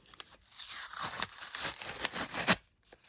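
Close tearing and crinkling of a paper packet being opened, a few short rips building into a longer tear, ending with a sharp final rip and brief quiet.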